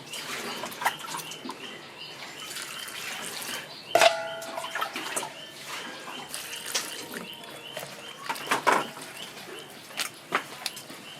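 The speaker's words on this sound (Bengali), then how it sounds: "ডাটাগুলো কাটা হয়ে গেছে আমি ধুয়ে নিচ্ছি" Cut drumstick stalks being washed in water, with steady splashing and sloshing throughout, a couple of louder sharp clinks, and faint bird chirps in the background.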